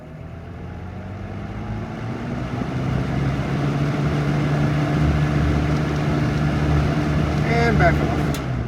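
A 1979 Lakewood P-237 fan starts up, its motor hum swelling into a steady, continuous whir that runs close and fairly loud.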